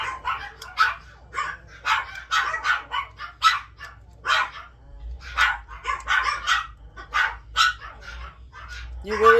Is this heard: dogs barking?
yes